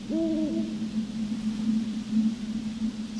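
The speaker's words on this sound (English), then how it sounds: "Thank you, Owl, for giving me chills." An owl hoots a few times inside the video game White Night, soft wavering calls over a steady low electrical hum that carries on alone afterward.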